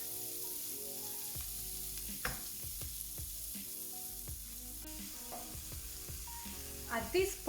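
Chopped tomato sizzles in a pan during the cooking of a vegan coconut chickpea curry, a soft steady frying hiss broken by repeated scraping and clinking strokes of a spoon stirring, with a louder clatter near the end.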